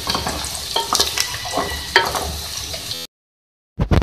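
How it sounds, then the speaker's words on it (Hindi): Onions fry with whole garam masala in a pan, a crackling sizzle punctuated by spoon clatter and stirring; the sound cuts to silence briefly before resuming. "तो इसके साथ आप फ्राई कर लें और प्याज को अपने लाइट गोल्डन करना है"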